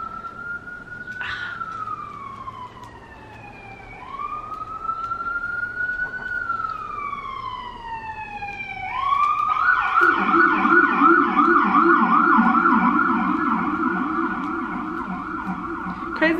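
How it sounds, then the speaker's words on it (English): Emergency vehicle sirens wail outdoors, rising and falling in long sweeps, then joined by a second faster yelping siren that grows louder and overlaps, with traffic rumble underneath. "Let's just wait for the sirens to finish."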